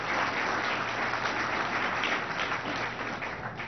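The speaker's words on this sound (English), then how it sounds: "let's give them a round of applause" Sustained round of applause from an audience at a city State of the City address, dense and steady clapping filling the space for several seconds without a break.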